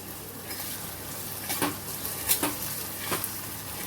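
Curry leaves and asafoetida sizzle in hot oil for tondli chutney, a soft steady frying hiss with a few sharper crackles and pops as the leaves hit the oil, fairly quiet and close.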